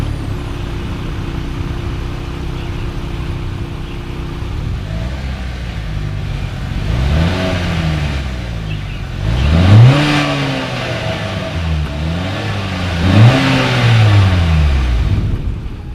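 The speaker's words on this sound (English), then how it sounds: "As always, here is that exhaust clip." A 2020 Acura RDX SUV's dual exhaust engine revs up and down several times, deep exhaust rumble rising in pitch with each throttle blip, steady idle between, close and loud.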